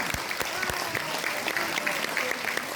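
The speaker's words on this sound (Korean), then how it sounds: "미래통합당의 핵심 가치와 핵심 과제, 통합을 위해 노력한 박 위원장을 큰 박수로 맞아주시기 바랍니다." A crowd at a Korean political party launch ceremony applauds to welcome a committee chairman to the stage, steady dense clapping from many hands with a few sharper nearby claps.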